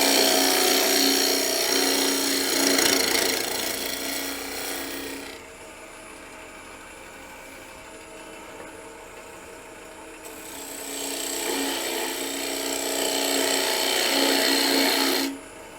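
A half-inch bowl gouge shapes a cherry bowl on a lathe, giving a steady close rasping cut that fades to the quieter hum of the spinning lathe and then returns loudly before stopping, with no talking.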